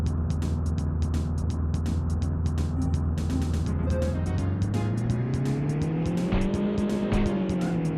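Roaring kart engines from the 1995 racing video game Street Racer, a steady buzzing drone that rises and falls in pitch as the karts accelerate, with tire-squeal-like accents and game sound effects layered over it, continuous and loud.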